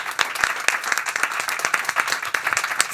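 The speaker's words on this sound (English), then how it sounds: "give these wonderful human beings the biggest round of applause" Audience at a conference session on communities and young people applauding, a lively, uneven round of clapping with distinct individual claps popping out over the steady patter, close and fairly loud.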